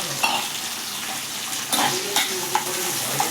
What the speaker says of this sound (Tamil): எண்ணெயில் நல்லா வதக்கி வெங்காயம் ஒரு 5 நிமிஷம் எண்ணெயில் வேகட்டும்